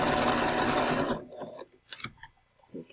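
A sewing machine stitches fabric to the edge of a seam in a fast, steady run of needle strokes for about a second, then stops, leaving soft handling noises and faint movement afterward.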